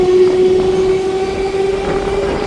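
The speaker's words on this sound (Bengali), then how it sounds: "ট্রেন আমাদের ছেড়ে দিল কামারকুণ্ডু।" Howrah–Bardhaman super local train on the chord line running just after leaving Kamarkundu, a loud close rumbling ride with a steady whining motor tone over the rolling track noise, no talking.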